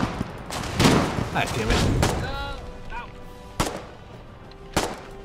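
Gunfire in the video game Aliens: Colonial Marines: a burst of shots early on, then two sharp isolated reports, with a creature screech between and a voice talking over the action.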